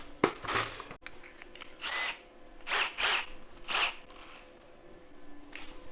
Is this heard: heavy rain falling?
no